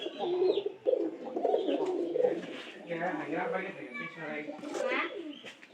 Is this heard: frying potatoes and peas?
no